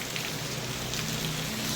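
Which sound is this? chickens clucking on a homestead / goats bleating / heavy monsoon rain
heavy monsoon rain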